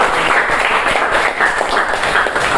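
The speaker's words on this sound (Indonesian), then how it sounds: "tepuk tangan dulu" A classroom of students claps hands together, a dense, steady burst of close applause filling the whole moment without talk.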